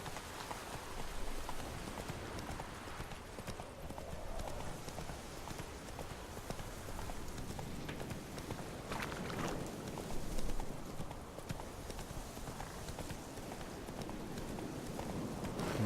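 Roach, Geralt's horse in The Witcher 3, gallops through Crookback Bog in Velen, hooves clip-clopping in a quick continuous rhythm under a steady wash of rain and ambient noise.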